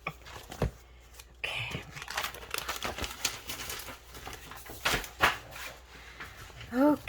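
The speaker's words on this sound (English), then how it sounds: "Rip that open to get them out." A craft package is torn and crinkled open at close range in short, irregular bursts of ripping and rustling, with a brief spoken word partway through.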